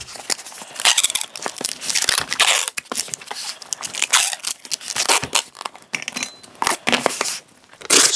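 Strapping tape pulled off a roll and torn while sealing a shipping box packed with heavy hammer heads, a dense run of loud, close crackling rips and crunches with brief pauses, no talking.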